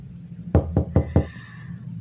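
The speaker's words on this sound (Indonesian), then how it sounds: "Aku mengetuk pintu ruang guru." Four sharp knocks on a staff room door, evenly spaced and close, the last followed by a short ringing tail over a low steady hum.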